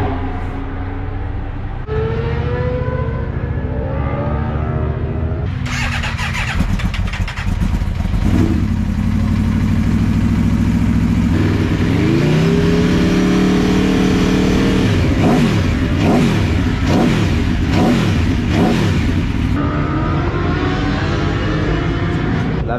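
A V4 racing motorcycle at the Paul Ricard circuit starts up and revs repeatedly, loud and close, with sharp rising and falling engine sweeps and crackling blips between steadier idle stretches.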